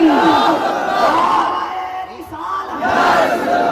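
A large crowd at an Islamic religious gathering in Bagdogra chants the takbir response together, several loud sustained waves of massed voices, with a brief dip between them.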